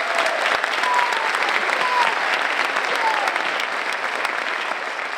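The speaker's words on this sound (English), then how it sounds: "Please give all of the staff here from Atwood a round of applause." Audience applause at an elementary school 5th grade graduation and awards ceremony, steady dense clapping from a large crowd that fills the whole stretch and tapers slightly at the end.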